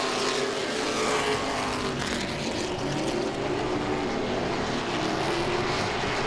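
Late model race cars roaring around Langley Speedway, a dense steady engine drone with shifting pitch as the pack passes, loud and continuous with no voices.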